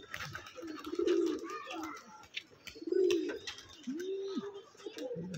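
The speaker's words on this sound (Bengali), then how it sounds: "একটা তসর কালারের কবুতর, কালারটা কিন্তু খুবই সুন্দর একটা কালার।" Pigeons coo inside a pigeon loft in Rajshahi, with several low, rolling coos repeating close by over soft background noise and a few faint chirps.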